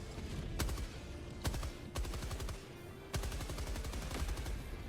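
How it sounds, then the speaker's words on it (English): Rapid bursts of gunfire in Helldivers 2 crack repeatedly, with several sharp, loud shots standing out over a dense rattle of automatic fire. "Each firearm sounds and feels beefy"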